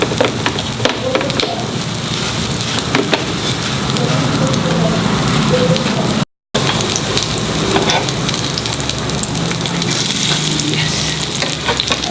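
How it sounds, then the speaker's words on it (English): Egg cutlets shallow-fry in oil in a skillet, giving a steady, loud crackling sizzle with occasional pops, heard up close throughout. "Let it fry nicely and put it on medium."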